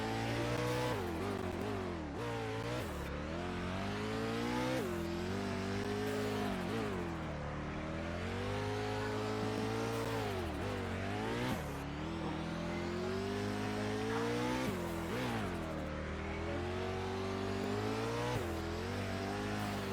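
Video game car engine in Vehicle Legends running in racing mode, revving steadily through repeated gear shifts with rising and dropping pitch, loud and continuous for the whole stretch, with no talk over it.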